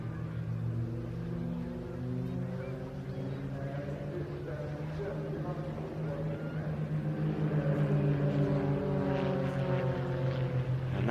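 Propeller display aircraft at the Bournemouth Air Festival, heard as a steady droning engine tone that swells slightly, with a commentator talking over it throughout.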